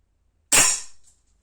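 One sharp, loud crack from a Blow H01 4.5mm air pistol of 4 joules fires close by and fades quickly into silence.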